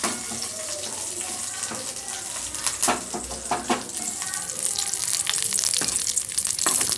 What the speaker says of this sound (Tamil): கருவேப்பிலை போட்டுக்கலாம் கருவேப்பிலையை நல்லா பொரிய விட்டுடலாம்